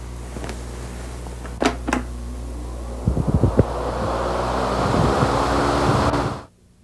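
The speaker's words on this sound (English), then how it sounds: "this one just blows air across the top and makes this little ball fly up in the air" A small wind speed demonstration device blows a steady stream of air across its top to lift a little ball, a broad rushing hiss that swells and then cuts off abruptly, with a few clicks and knocks early on.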